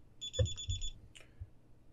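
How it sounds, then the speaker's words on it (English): A rapid string of high electronic beeps from a DSC Neo alarm keypad in alarm, close by, followed by a few soft thumps and a short chirp. "now the system is in alarm"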